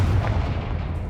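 Confringo blasting spell exploding in the Hogwarts Legacy video game: a loud, booming blast with heavy low rumble that holds steady for about a second, no voices.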